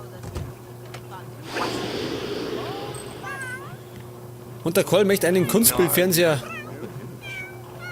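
A cat in The Sims 3 meows several times, with drawn-out, wavering calls toward the end, while someone talks over the game sounds.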